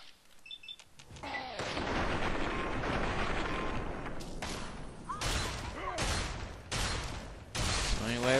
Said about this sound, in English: at this close of a range, I might as well use my combat shotgun